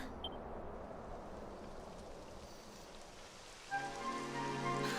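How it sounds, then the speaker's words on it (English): Rain falling in the video game Dragon Quest XI, a soft steady patter and hiss under the game's ambience, with tonal music or effects entering near the end. "It would have to go and start raining, wouldn't it?"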